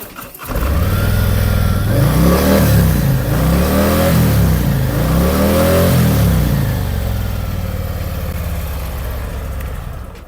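A 2024 Harley-Davidson Road King Special 114 motorcycle starts and then idles with a deep, loud, close rumble. Its throttle is blipped three times in quick, rising-and-falling revs before it settles back to a steady idle.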